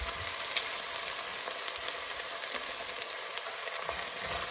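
Green chili and curry leaves sauté in a hot pan for a chicken curry, giving a steady, dense, close sizzle with faint stirring scrapes throughout and no voices.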